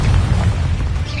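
A Confringo fire spell blast in Hogwarts Legacy, cast inside a cave, gives a loud, dense booming rumble that fills the whole short moment without a sharp break.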